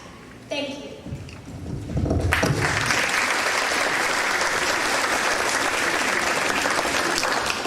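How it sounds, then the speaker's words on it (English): Audience at an FFA chapter banquet breaks into sustained loud applause, building from scattered claps and a brief voice into a dense, even roar of clapping that continues to the end. "Let's give them a round of applause."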